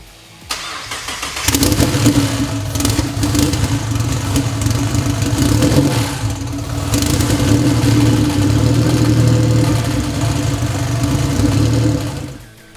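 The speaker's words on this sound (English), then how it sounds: "The engine runs and doesn't leak." A Nissan VR38 V6 swapped into an R34 Skyline GT-R cranks and fires on its first start, then settles into a loud, close idle with a couple of blips in revs before shutting off.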